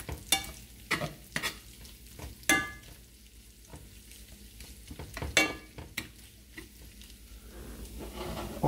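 Bacon frying in a pan sizzles with a soft steady crackle, broken by several sharp clinks and scrapes of stirring and turning close by, with no talking.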